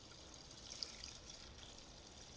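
Water is poured through a Mr Funnel fuel filter funnel, making a faint, continuous trickle and splash at low volume with no voices.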